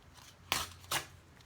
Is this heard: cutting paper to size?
yes